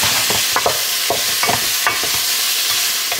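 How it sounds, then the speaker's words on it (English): Food cooks down in a pan with a constant, bright sizzle, broken by quick stirring scrapes and clatters at a busy, uneven pace, close and loud with no voices. "And cook that down"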